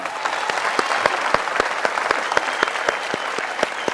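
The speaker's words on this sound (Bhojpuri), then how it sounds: "तालियां!" On a Bhojpuri quiz show set, a studio audience claps in steady, distinct rhythmic beats, a sustained round of applause close and fairly loud with no talking over it.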